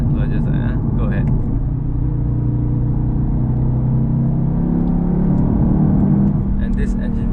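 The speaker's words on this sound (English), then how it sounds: "And this engine really pulls, for such a small, agile car with all-wheel drive quattro." Low, steady engine rumble and road drone from a 2016 Audi TT S with all-wheel-drive quattro while driving, heard from inside the cabin, with brief higher noises at the start and end.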